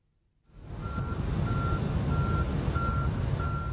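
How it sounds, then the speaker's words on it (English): A sulphur tanker truck reverses at a sulphuric acid plant, its engine rumbling steadily while a reversing alarm beeps in a regular, evenly spaced rhythm, loud and close, with no talk. "This tanker is delivering sulphur."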